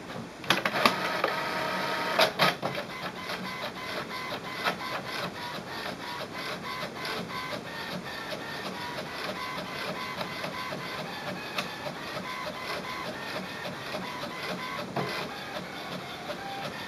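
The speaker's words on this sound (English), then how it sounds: "We are now ready to print from this computer" An HP Envy inkjet printer runs through a page print job, a steady mechanical whir with sharper clicks and feed clunks near the start and again toward the end, close and continuous throughout.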